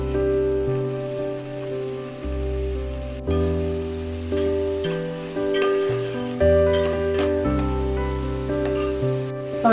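Chopped tomatoes tipped into onions frying in a pan for a home-style mutton thali, a steady close sizzle with stirring clatters and occasional sharp utensil knocks, no talking.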